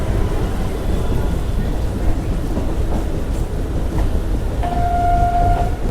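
A Lalgola train stands at Ranaghat junction, with a steady low rumble of rail cars, a brief high tone near the end and faint background voices.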